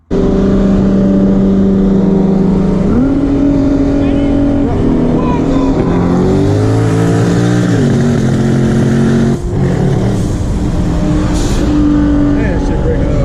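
A Ford Mustang with a high-mileage Coyote engine revs hard during a race, its loud sustained drone rising and falling in pitch through gear changes, with choppy misfire breakup in the engine note.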